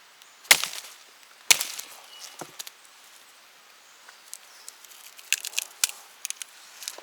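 A blade chops through a palm heart outdoors, two sharp, loud cuts followed by softer crackling, splintering and rustling of fibrous plant material, close up, no talking.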